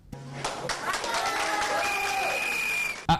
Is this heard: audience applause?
yes